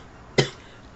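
A single short cough from a person with a cold, close and sharp, in an otherwise quiet background.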